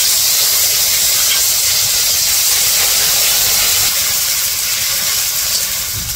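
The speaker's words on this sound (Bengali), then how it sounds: "তো এখন দিয়ে দেবো পেঁয়াজ বাটা।" Onion paste sizzles in a pan for mustard hilsa curry, a loud steady hiss that runs unbroken throughout with no talk.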